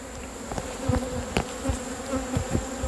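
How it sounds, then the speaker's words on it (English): Honeybees buzz steadily around an open hive, with individual insects droning past close by in a continuous hum. "We got a few bees here"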